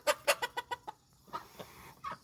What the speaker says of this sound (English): And there's my baby chickens.